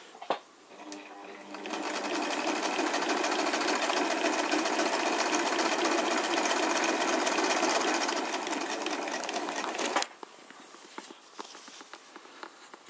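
Elna industrial sewing machine running quietly, a steady, even mechanical whir of stitching for about eight seconds, close by, stopping abruptly and followed by a few faint handling clicks.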